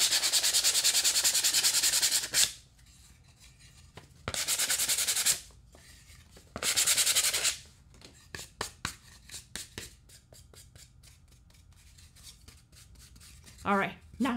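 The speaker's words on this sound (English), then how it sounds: "I'm just sanding off any glue that might have seeped out." Sanding wood edges to remove glue that seeped out: three long, loud, steady abrasive rubbing passes, followed by quieter scattered scrapes and taps.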